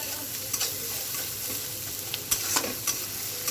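Onions and green chilies fry in hot oil in a pan with a steady close sizzle, broken by a few sharp spatula scrapes and clicks.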